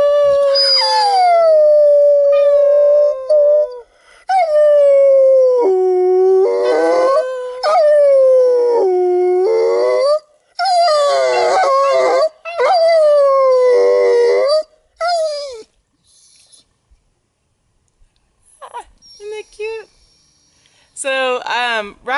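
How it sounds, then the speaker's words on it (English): A Rottweiler howls in long, wavering sustained tones across several bouts, mixed with a person howling along, then fading into quieter yips and whimpers near the end. "And then if I howl, he'll howl as well."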